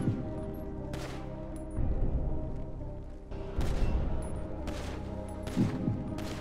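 Weapon fire rings out in a GTA roleplay session while a gun is being tried out: several loud separate shots spaced a second or so apart over a constant low background drone.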